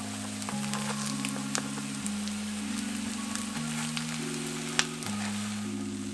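Hokkaido potato mochi cakes fry in oil in a pan, giving a quiet steady sizzle with occasional crackles, under a low tonal hum.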